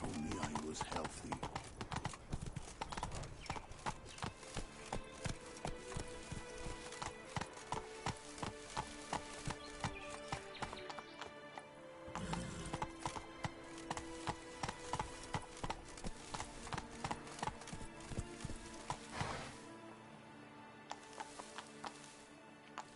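Roach, a horse in The Witcher 3 video game, gallops with a fast, steady clip-clop of hooves that continues throughout, loud and close, with brief speech over the hoofbeats.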